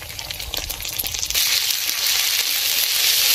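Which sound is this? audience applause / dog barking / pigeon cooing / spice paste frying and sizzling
spice paste frying and sizzling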